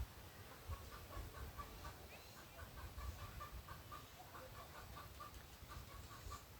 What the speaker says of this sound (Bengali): পাশে মুরগির আওয়াজ